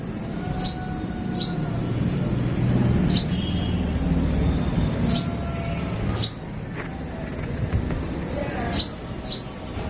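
A sparrow at a garden seed feeder gives short, bright chirps in irregular bursts, near and clear over a steady background rumble.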